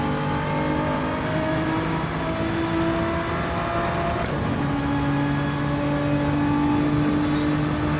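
Race car engine in the Gran Turismo 7 racing game revs hard and steadily through the gears, a loud continuous drone with rising and falling pitch and a brief shift around midway, heard alone without talk.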